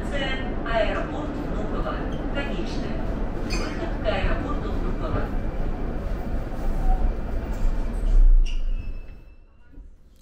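A Moscow metro train rumbles and rattles steadily as it pulls into Vnukovo Airport station, then the noise fades away, with a voice talking over it.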